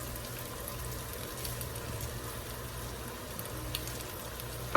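BBQ pork bao filling sizzling and frying in a pan on a stovetop turned down to low, a soft continuous crackle with scattered pops, fairly quiet and heard alone.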